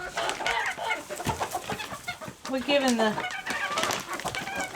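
Backyard chickens clucking and calling in a coop while being handed treats, with a person talking over the continuous hen chatter at close range.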